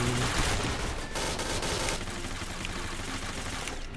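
Sustained rapid-fire gatling gun bursts from a video game, a dense continuous rattle of shots that stays loud throughout with slight dips in intensity.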